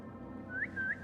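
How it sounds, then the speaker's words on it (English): A rising two-note whistle repeats twice in the Assassin's Creed Mirage video game, clear and fairly close over a low steady game ambience, with no talk. "I'll be able to whistle"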